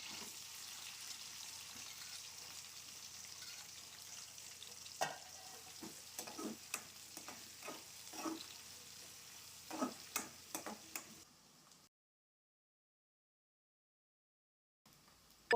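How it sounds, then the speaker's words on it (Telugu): Green chillies and onions fry in a pan for a boti curry: a soft, continuous sizzle with a run of sharp spoon clicks and scrapes from stirring, then the sound cuts to near silence before ending. "పచ్చిమిర్చి మగ్గినాక ఉల్లిపాయలు వేసుకోవాలి."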